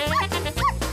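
A dog gives two short, loud yips or barks close by, each a clipped tonal burst, with a quiet gap between them.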